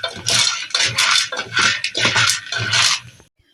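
Date seeds are stirred in a frying pan, giving repeated scraping, rattling strokes in about five bursts with short pauses between them, close by.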